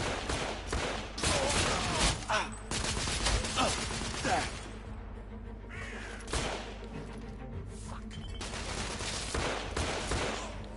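Gunshots and volleys ring out in The Order 1886, a Victorian-era shooter, in loud, clustered bursts early on that thin into scattered, quieter shots, over a layer of background game noise.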